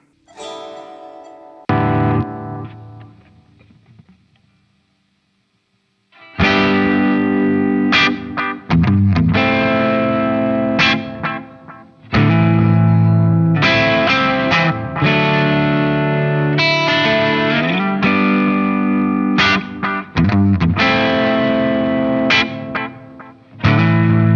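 Electric guitar run through a hybrid-powered effects pedalboard, with distorted, chorused chords and riffs ringing out loud after a brief quiet pause, sustained and full.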